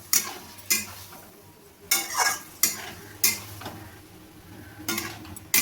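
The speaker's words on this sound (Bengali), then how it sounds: "জল দেওয়ার পর আমি ভালোভাবে নাড়িয়ে নেব।" Kudri (ivy gourd) curry being stirred in a pot after water is added, with about seven sharp spoon scrapes and clinks at irregular intervals over a low simmering hiss, no one speaking.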